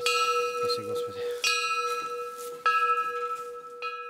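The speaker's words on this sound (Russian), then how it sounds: "Сегодня над монастырем разливается звон пусть небольших, но уже настоящих колоколов." Small, newly donated monastery church bells ring on a winter day at the Chikoy St. John the Baptist Monastery, with several distinct clear strikes whose bright tones hang and decay between hits. A few low murmured sounds are faintly audible early on.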